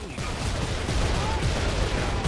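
Rapid gunfire from the video game Gears of War 2 during an online match, dense and continuous over steady background noise for the whole stretch.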